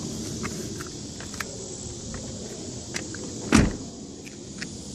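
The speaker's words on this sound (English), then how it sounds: "Door closes nicely." A Mazda RX-8's door shutting after an exterior handle replacement, one firm thud standing out midway over a quiet background with faint clicks, no talking.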